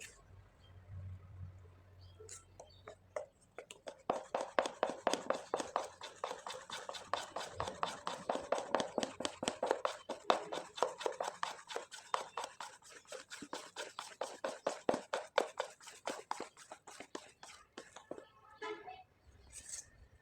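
Rice batter with a half spoon of baking powder being stirred in a bowl, with a steady run of quick, close scraping and tapping strokes lasting several seconds, alone, no talk.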